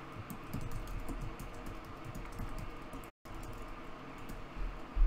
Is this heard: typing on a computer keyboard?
yes